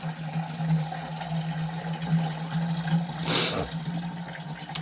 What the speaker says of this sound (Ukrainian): зараз зараз води ще наберу